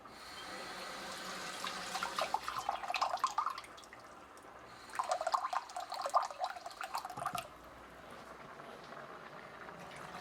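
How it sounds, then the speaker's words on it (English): Water poured into a cooking pot for vegan chimichangas, a splashing, trickling flow in two bursts of a few seconds each with a quieter pause between them, fairly close and heard on its own. "So there goes the water right there."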